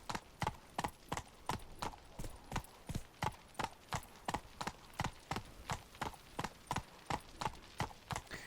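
Roach, a horse in The Witcher 3, gallops with a steady, rapid clip-clop of hooves, each beat sharp and close, repeating evenly throughout with no other sound competing.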